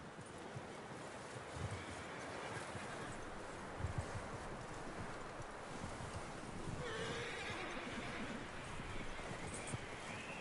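A horse in the video game Red Dead Redemption 2 neighs and whinnies over a steady wind-like outdoor ambience, with a few soft hoof clops, no talking.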